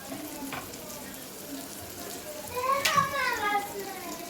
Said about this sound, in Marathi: छानपैकी परतून घ्यायचं आहे.